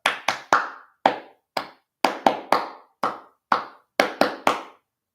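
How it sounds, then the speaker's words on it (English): Sharp hand claps in an irregular rhythmic pattern, roughly fourteen distinct claps in bursts of two and three, close and fairly loud with silence between, no talking. "Clapping your hands. There's a rhythm. There's a pattern."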